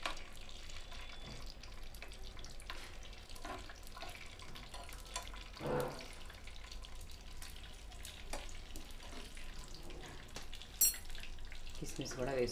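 Cashews fried in a pan until lightly golden, giving a steady soft sizzle with occasional stirring scrapes and clatter throughout, with no talking.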